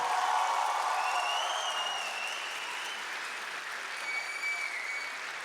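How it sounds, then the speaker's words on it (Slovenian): Sustained audience applause at a secondary school graduation dance in Maribor, a dense steady wash of many hands clapping loudly throughout, easing slightly toward the end, with a faint cheer or whistle above it. "Glasneje še, da slišim aplavz."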